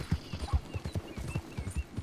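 Horse hooves clip-clop in the video game Red Dead Redemption 2, a steady, close, even rhythm of footfalls heard alone, with no talking over them.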